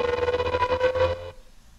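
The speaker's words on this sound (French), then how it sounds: "il y a une montée, donc il y a un riser qui est tout seul" A horror-film riser effect plays on its own, a dense tonal swell with a rapid pulsing flutter that holds for over a second and then cuts off abruptly into near silence.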